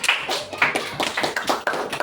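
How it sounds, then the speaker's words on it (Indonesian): A classroom of fourth-grade pupils claps for three classmates, with a steady run of dense, close-range hand claps and no talking. "Oke, tepuk tangan untuk 3 teman ini."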